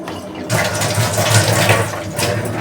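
Tap water runs steadily while potatoes are washed in a sink for aloo gobhi, a broad continuous splashing hiss that begins after a brief quiet start.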